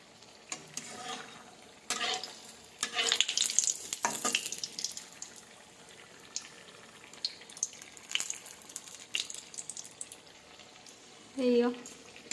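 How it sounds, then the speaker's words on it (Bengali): Potato chops deep-fry in hot oil, a faint steady bubbling sizzle with light clicks from a slotted spoon stirring them, while a person talks softly. "চপ ছাকা হচ্ছে।"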